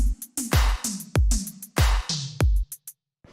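Short electronic drum tom fill, pitched tom hits stepping along between punchy kicks and bright snare bursts with quick hi-hat ticks, dry and close, ending abruptly.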